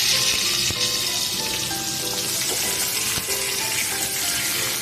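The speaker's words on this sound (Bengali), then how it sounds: "তারপর ঝিঙাগুলো প্রথমে ভেজে নেব" Sliced ridge gourd and black cumin fry in hot oil with a steady, close sizzle and crackle, and occasional stirring clinks, with no talking.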